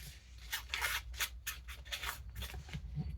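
Inking pad dabbed and rubbed over a paper envelope, a run of soft, close scuffing strokes in irregular bursts, fairly quiet with no talking.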